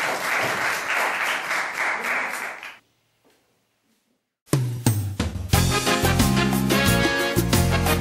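Audience applause at an Italian music show, dense loud clapping that cuts off abruptly, followed by a short silence and then music starting up.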